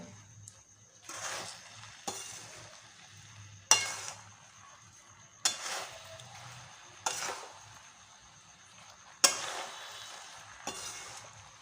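A spoon stirs jaggery into a jujube (kul) pickle in a pan, with a sharp scrape or clink every second or so over a soft, faint bubbling background.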